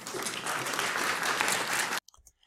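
Lecture audience bursting into dense, sustained applause that fills about two seconds, then cuts off abruptly, leaving only a few faint stray sounds.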